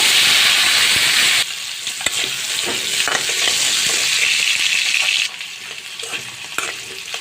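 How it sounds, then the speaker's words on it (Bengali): Potato pieces fry in soybean oil already used for rui fish, giving a loud, dense sizzle that eases slightly after a second and a half, with a few clicks and stirring knocks, and no voices. "তো আমি ওই তেলেতে আমি আলুগুলো ভেজে নিব।"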